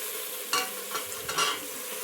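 Mint and coriander leaves fry in biryani masala for mutton biryani, a soft close sizzle with a few scraping stirs of a spoon in the pan, no voices.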